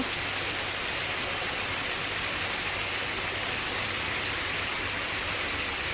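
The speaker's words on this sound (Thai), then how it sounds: "น้ำตกจะไหลแรงนะคะ เป็นละออง เย็นชื่นฉ่าเลยนะคะ" A waterfall flows strongly inside a cave near Chiang Mai, producing a dense, unbroken roar of falling water that fills the space at close range.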